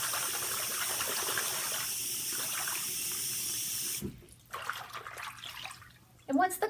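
Water with dissolved baking soda for a synthetic wig bath is stirred and sloshed by hand in a basin. It makes a continuous close rushing wash that then drops to softer intermittent swishes and splashes.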